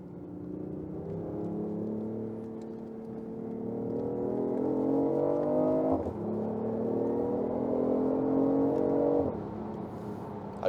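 A BMW i8's 3-cylinder engine revs up during a test drive, a steady rising drone heard from inside the cabin with two gear changes breaking the climb.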